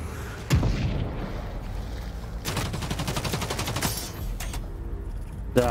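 Rapid automatic bursts from an assault rifle in Cycle Frontier at Crescent Falls, a close sharp shot near the start, then a long dense volley in the middle and a final shot at the end.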